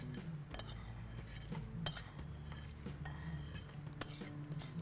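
Light clinks and taps of a spoon against dishes and a small mixer jar come in scattered bursts over a quiet background, as rasam ingredients with drumstick leaves are added.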